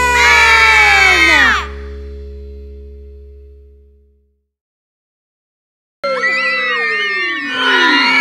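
A group of children shouts loudly in a burst during a children's song, followed by a fading sustained musical tone, a few seconds of silence, then another burst of loud shouting.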